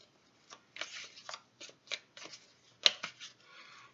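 A deck of tarot cards is shuffled by hand during a reading, giving quiet, close riffling bursts and soft slaps in an irregular rhythm, with no one talking.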